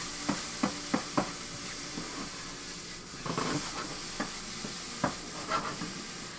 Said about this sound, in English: Just gonna get a nice little saute on these